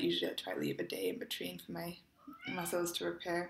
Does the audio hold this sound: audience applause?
no